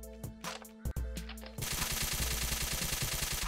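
Gunfire in the Roblox game Island Royale, first a few separate sharp shots and then a sustained rapid automatic burst, loud and close, with no talking over it.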